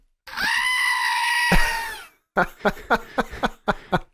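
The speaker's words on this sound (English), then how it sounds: "May I offer a collective goat scream?" A goat scream sound effect: one long, loud, wavering human-like scream followed by a quick series of short, sharp bleating cries, close and alone.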